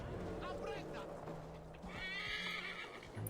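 A horse whinnies and hooves clip-clop in the Assassin's Creed Valhalla video game, a loud bright neigh rising near the end over continuous game ambience and low background sounds.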